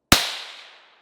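A single sharp gunshot from a Marlin .22 Magnum bolt-action rifle during an Alabama deer hunt cracks close by, followed by a quick fading outdoor echo.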